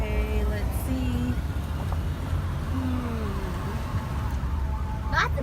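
A fire truck siren wails along a Hollywood street during California wildfires, its sweeping tones rising and falling over steady traffic rumble, moderately close, with people talking nearby.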